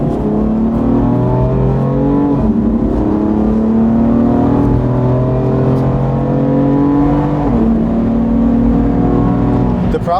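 A BMW M4 on a racetrack is heard from the cabin as its engine climbs through the revs in rising sweeps, with gear changes breaking the climb about every two and a half seconds, loud and close; no talk is evident.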